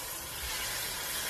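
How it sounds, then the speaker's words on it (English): Salmon fillets sizzling in hot seasoned oil in a pan, a steady soft hiss without a break, fairly quiet and heard alone. "I've got some salmon fillets here, and you can just hear that sizzle"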